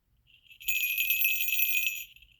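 A small owl-painted jingle bell shaken close up, a bright tinkling shimmer that swells in, rings for about a second and a half and fades out, with nothing else heard.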